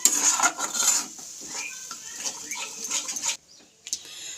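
A yogurt and spice mixture being stirred in a pan over low heat, with soft sizzling and clinking, scraping spoon strokes against the pan, close up, ending in a brief quiet gap and one last clink.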